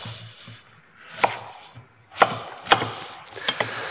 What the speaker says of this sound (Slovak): Koreňovú zeleninu si nakrájame na približne rovnaké kúsky.